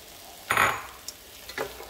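Bacon goes into a pan of Brussels sprouts already frying with balsamic vinegar, giving one brief burst of sizzle followed by faint clicks and small crackles.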